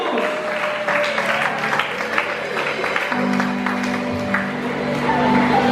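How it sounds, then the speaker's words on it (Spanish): A church congregation applauds loudly and steadily during a Spanish-language sermon, dense clapping filling the room alongside crowd noise and a sustained tone, with no clear speech over it. "Si lo crees, dale un fuerte aplauso."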